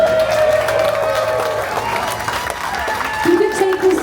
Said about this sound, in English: I do want to give a round of applause